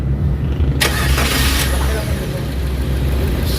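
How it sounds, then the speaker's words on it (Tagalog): A Suzuki Carry mini truck with low power and an engine knocking problem cranks and fires up with a broadband burst, then settles into a loud, steady low idle rumble close to the mic, with no talking. "Pakinggan natin guys yung engine."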